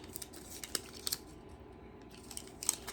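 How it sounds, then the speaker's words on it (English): Small scissors snip cured UV resin overpour from the edge of an open bezel pendant, several quick sharp cuts scattered over a steady low background hiss, close up and fairly quiet. "Just take your scissors and knock it off there"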